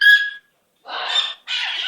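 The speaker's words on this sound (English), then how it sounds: "My little pretty bird. My pretty bird." A pet bird with itchy feathers squawks three times up close: a short shrill whistle-like call, then two loud harsh raspy squawks separated by brief silences.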